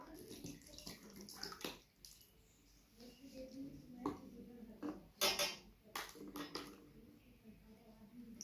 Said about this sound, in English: First we are going to fill the water